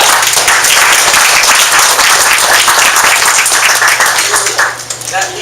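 An audience at a business networking launch event gives a big round of applause, a loud, dense wash of many hands clapping continuously before tapering near the end, with voices mixed in.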